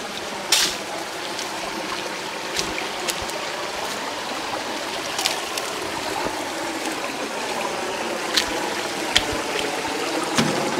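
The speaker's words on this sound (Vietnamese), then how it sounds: "Wow, suối đây cũng đẹp quá cô ha." A clear, clean forest stream flows steadily nearby where villagers collect their water, a continuous watery rush with occasional brighter splashes and trickles, heard alone without talk.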